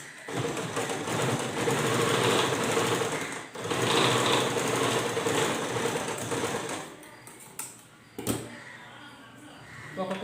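A sewing machine stitching a frock: rapid continuous motor-driven needle chatter running in long bursts, with brief pauses, fabric handling noises and a sharp clack near the end, fairly close.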